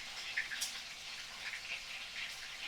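A washed katla fish head sizzles in hot mustard oil without salt or turmeric, giving a steady, faint, crackling hiss with small pops and no talking.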